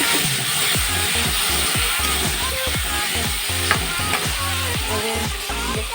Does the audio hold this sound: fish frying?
yes